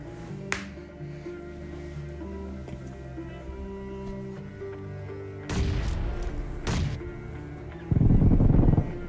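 A bomb goes off during a solo ranked match of the mobile shooter BGMI (PUBG), heard as two loud broadband blasts, the second heavier and sustained, over steady game music and ambience.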